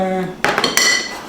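Salt and baking powder being stirred into almond flour brownie batter, with a brief tone fading into several quick clinks and scrapes of a utensil against a bowl, close and loud.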